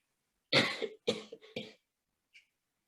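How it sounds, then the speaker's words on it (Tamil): Three harsh, close coughs in quick succession from a lingering cough at a seniors' Christmas gathering, followed by a faint short breath after a pause. "இன்னும் உங்களுக்கு இந்த இருமல் மாற இல்ல"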